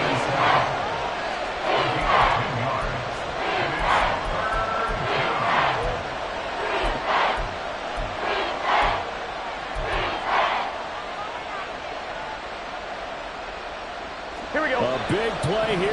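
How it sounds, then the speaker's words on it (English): Stadium crowd noise from the Madden 24 American football video game, a steady dense roar with bursts of cheering that swell and fade over several seconds, followed by a sharp jolt of contact near the end. "A big play here as the crowd noise rises."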